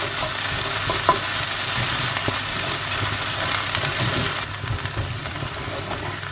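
Garlic mixture sizzling in a frying pan as it is stirred, a steady close crackle and hiss with occasional scrapes, no one talking.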